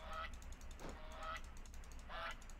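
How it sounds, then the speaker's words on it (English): A goose in the horror indie game Moth House honks three times, roughly a second apart, as fairly loud nasal calls over a low steady background hum, with no talking. "Shut up, duck."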